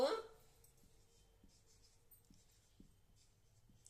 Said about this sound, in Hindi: अब हम आगे लिखते हैं